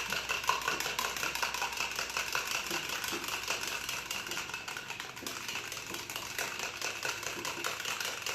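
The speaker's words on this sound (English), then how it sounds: "I just have a little whisk here now, and I can" A small whisk mixes mustard into milk in a bowl, producing rapid, even clicking and tapping that runs steadily throughout at moderate volume.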